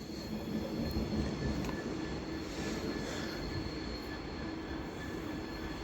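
A light locomotive runs past on the West Coast Main Line at Stafford, a steady, loud rumble of wheels on rail with a faint high squeal, holding level and close throughout with no one talking.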